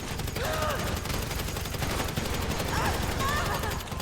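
Sustained rapid gunfire rattles on without a break during a GTA V Online mission, loud and dense, with faint voices underneath.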